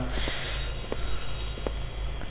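Telephone rings in the horror game The Groundskeeper, a faint repeating electronic trill over a steady low hum and high whine, without any talk.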